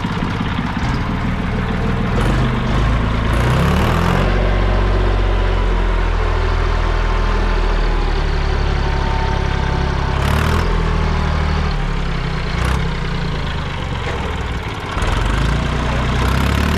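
A 533 tractor with its original exhaust idles steadily close by, a low continuous engine rumble running throughout with a few brief louder bursts and no talk.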